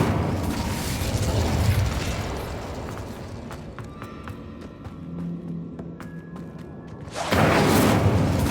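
An Incendio fire spell blast in Hogwarts Legacy erupts as a loud burst with a roaring whoosh, then settles into quieter clicking mechanisms before a second strong fiery burst swells near the end.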